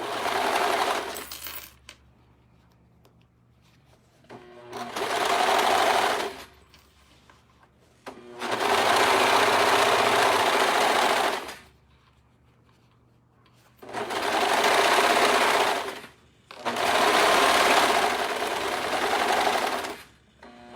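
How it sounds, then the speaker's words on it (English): A serger overlock sewing machine stitches fabric in five separate bursts of fast, even whirring and rattling, with quiet pauses between runs and the machine close by. "I had this serger for 12 years"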